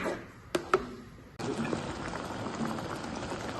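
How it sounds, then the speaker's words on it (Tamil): A pot of homemade fruit jam bubbling at a steady boil, with a couple of sharp pops near the start and a continuous dense simmer afterward. "நல்லா கொதிக்குது பாருங்க"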